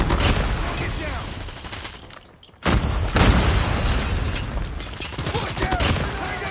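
A grenade goes off in a first-person shooter video game: dense gunfire, a brief lull, then a loud, close boom, followed by more rapid shooting, with shouted voices mixed in.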